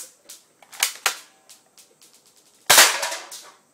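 A DMA M-14 SOCOM spring-powered airsoft sniper rifle firing at cans, with sharp snapping shots and metallic tin hits at irregular intervals, close and crisp, then a louder impact clatter near the end.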